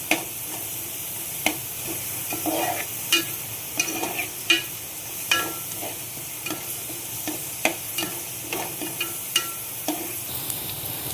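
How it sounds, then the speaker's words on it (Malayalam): Onion, green chilies and curry leaves sauté in a pan for Kerala-style bitter gourd thoran, giving a steady close sizzle broken by regular scraping stirs, with no voices. "സവാളയുടെ പച്ചമുളക് മാറുന്നത് ഒന്ന് വഴറ്റി കൊടുക്കുക"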